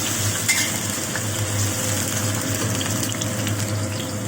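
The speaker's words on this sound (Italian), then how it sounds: "La fai friggere un po', soffriggere un po' la cipolla." Chopped onion fries in a pan for a risotto, giving a steady loud sizzle and crackle that holds evenly over a low constant hum.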